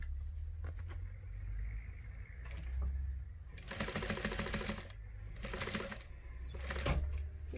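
Sewing machine stitching a fabric bag in bursts, mechanical rattling runs that stop and restart between pauses for pivoting, close and moderately loud over a low steady hum.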